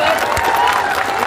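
An audience at a stage program claps in a short, steady burst of dense applause that fills the room.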